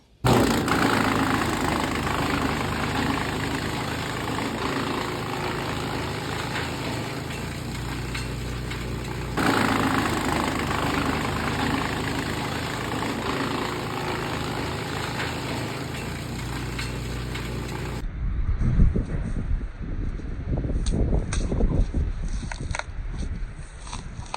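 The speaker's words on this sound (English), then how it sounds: "He needs someone to remove all of this foliage underneath and put it through the chipper" A wood chipper runs loudly and continuously while eucalyptus foliage is fed through it, with a steady engine roar and a shift to lighter, rattling chipping noises near the end.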